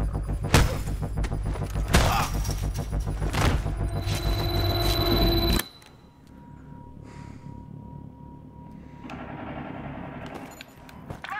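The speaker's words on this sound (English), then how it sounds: "I hear gunshots." Several sharp, loud bangs in quick succession, gunfire in Battlefield 3, followed by a quieter stretch with faint background noise.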